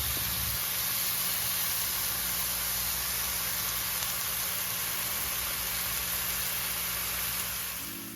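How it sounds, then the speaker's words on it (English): Bacon strips sizzle steadily in a hot pan being fried until crisp, a dense, continuous hiss and crackle held up close at an even level throughout. "So just going to fry this up and then we'll go to the next step."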